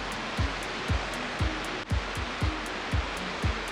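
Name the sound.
hot water cascade at Yellowstone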